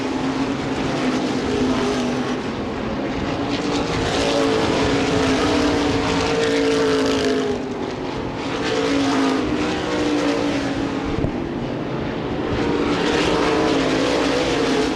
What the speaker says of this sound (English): Scott Coe on a Sunday afternoon drive here at Lucas Oil Raceway